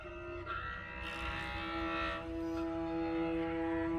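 Music played on instruments carved from ice, with sustained ringing tones and a swelling, shimmering texture, fairly faint and with no talking.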